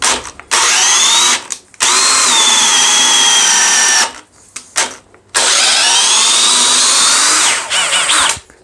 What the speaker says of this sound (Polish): jest to wiertło samowiercące, więc ono ma tam na początku gwint i tak naprawdę samo ciągnie